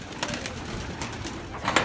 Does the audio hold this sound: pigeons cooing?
yes